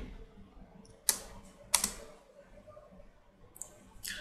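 Mouse clicks on a Windows admin console while setting up a Microsoft Intune device compliance policy: two crisp, close clicks about half a second apart, then softer taps at the end over low room hiss.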